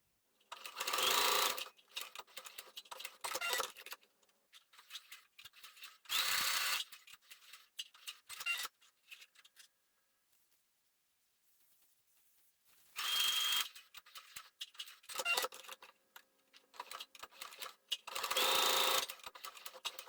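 A sewing machine runs finishing seams on turned fabric pieces for a rabbit-shaped bag, whirring in several short, close bursts separated by quiet pauses and light handling noises.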